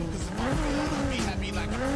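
A Polestar 1 drifting in Need for Speed Heat, its tires squealing in a long wavering skid over steady engine noise, with someone talking over it.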